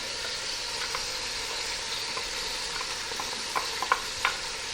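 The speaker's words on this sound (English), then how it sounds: "I want to put the onion." Onion going into a hot pan for a meat ragù, a steady broadband frying sizzle with a few soft stirring knocks toward the end, close and continuous, with no talking.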